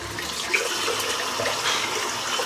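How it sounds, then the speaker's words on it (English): Running tap water gushes steadily while a shaving brush is rinsed beneath it, a close, continuous splashing hiss with small shifts in the flow and no voices. "In the meantime, I'm just going to rinse the brush out."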